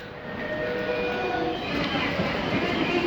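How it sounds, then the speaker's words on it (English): Yamanote Line trains pull into Takanawa Gateway Station, a steady broad rumble of rail traffic with faint squealing tones from wheels or brakes, continuous and fairly close on the platform. "we've got a couple of trains coming in at the same time in a couple of minutes"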